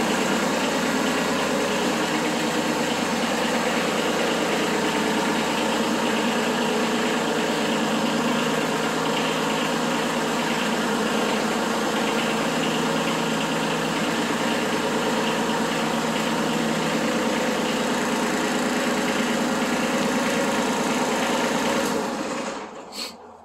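A Kubota B2301 compact tractor with a BH70 backhoe attached idles steadily up close, a continuous engine drone holding even for over twenty seconds before cutting off near the end.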